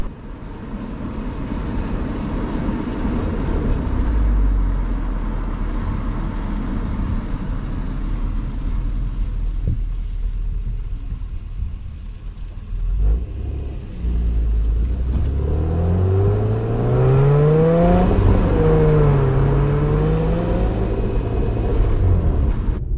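An Acura TL SH-AWD with a 6-speed manual drives along, a loud steady engine drone and road rumble with wind noise, then rising and falling engine pitch as it accelerates through gears.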